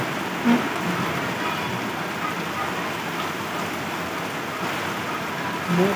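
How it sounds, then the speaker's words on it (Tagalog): Heavy rain pours down steadily in a dense, constant hiss, loud and close, with no breaks. "Lakas na naman ng ulan."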